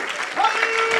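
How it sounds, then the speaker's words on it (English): A church congregation claps in worship, a dense wash of hands blended with voices and a sustained tone, loud and close throughout. "Give him another hand clap of worship"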